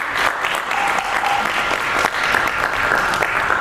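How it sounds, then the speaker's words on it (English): An audience at a talk breaks into applause, a dense, loud and steady roar of clapping, with faint voices and cheers mixed into the crowd. "Give yourself a round of applause."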